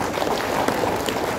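An audience at a literacy event in Singkawang in 2022 applauds, a brief burst of close, thick clapping from many people that stays at an even level.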